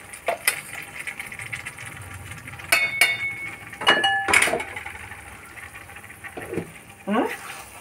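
A spoon clinks and scrapes against a pan as ground spice is mixed into lemons off the heat, giving sparse metallic taps and rattles spread across several seconds, with talking heard in between.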